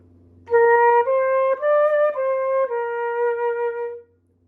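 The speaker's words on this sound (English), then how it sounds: "let's consider a simple flute passage that sounds like this." A smooth flute melody of about six sustained notes, played legato with clean tone, moving up then settling on a long held final note.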